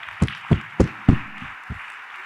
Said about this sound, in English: Please, can we make the applause louder?